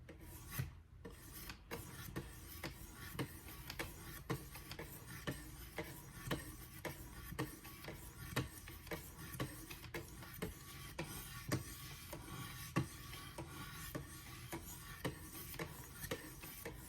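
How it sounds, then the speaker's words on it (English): A Kershaw Lucha knife is sharpened on a 600 grit stone with steady, repeated rasping strokes, a soft gritty scrape in an even rhythm, close and quiet, with no talking. "we are going to spend a little bit of time with these 600 grits to get this knife real nice."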